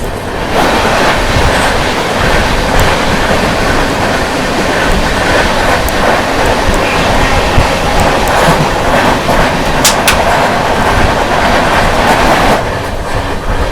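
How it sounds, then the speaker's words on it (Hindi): An LTT–Saharsa Amrit Bharat Express rushes past at close range with a steady, loud roar and rapid clickety-clack of wheels over rail joints, sustained throughout before easing slightly at the end. "सामने से आ रही है लोकमान्य तिलक टर्मिनस सहरसा अमृत भारत एक्सप्रेस"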